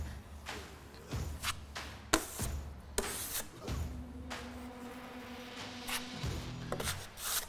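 A trowel spreads drywall mud over mesh tape while patching a hole in a wall, with intermittent wet scraping and smearing passes and a few clacks, close and moderately loud, no talking.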